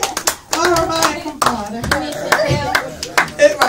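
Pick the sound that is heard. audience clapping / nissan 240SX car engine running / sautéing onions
audience clapping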